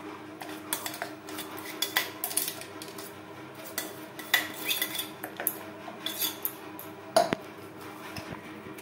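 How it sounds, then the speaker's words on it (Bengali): Fish being worked by hand with spice paste and lemon juice for Bengali paturi, heard as scattered clinks of a spoon or dish against a metal pan with irregular taps and rattles, close and with no talking. "মশলার সমস্ত উপকরণ দিয়ে মাছ বেশ ভালো করে মেখে নেব।"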